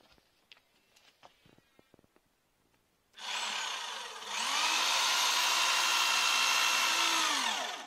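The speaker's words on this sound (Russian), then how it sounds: "Почему удобно работать дрелью?" A few faint taps and clicks, then a powerful drill whirs up, steps to a higher steady speed, and runs loudly for several seconds before winding down, while floorboards are fixed to joists in a frame house.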